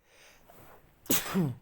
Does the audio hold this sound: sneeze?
yes